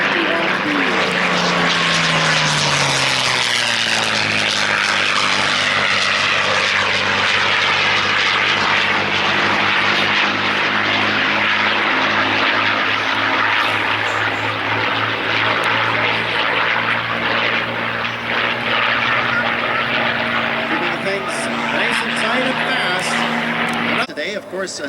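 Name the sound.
P-51B Mustang vintage aircraft engine flying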